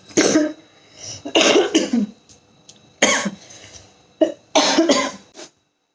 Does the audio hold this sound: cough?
yes